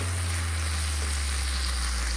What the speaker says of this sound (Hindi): इसे हम हल्का सा सॉटे करेंगे। लगभग 2 से 3 मिनट तक तले से हम अच्छे से फ्राई करेंगे।